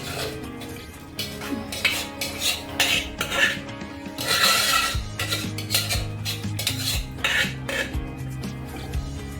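Mashed boiled gongura leaves going into a gravy in a pan and being stirred: close metal spoon scrapes and clinks against the pan in uneven strokes, with a low thud midway and steady background hum.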